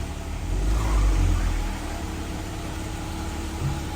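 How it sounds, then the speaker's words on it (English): A 2012 Jeep Wrangler Rubicon engine runs and pulls away, a low steady rumble that rises briefly as it accelerates, then settles into an even drone with no talk. "I'm gonna start the Jeep and I'm gonna drive for around my neighborhood for about a minute."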